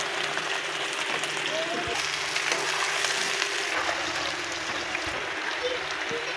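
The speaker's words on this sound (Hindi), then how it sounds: "अब हम बनाने लगे हैं भिंडियाँ। ये मैं करने लगी फ्राई।" Okra (bhindi) fries in a pan in a village kitchen, a dense continuous sizzle with occasional stirring clinks, close and steady throughout.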